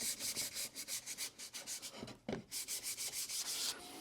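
Sandpaper rubs rhythmically back and forth along a curved wooden table leg in a workshop, producing quick, close scratchy strokes with a brief pause midway.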